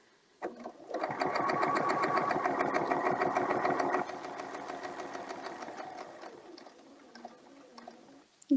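A sewing machine runs in a fast, steady stitching burst for several seconds, then slows to quieter, intermittent stitches before stopping.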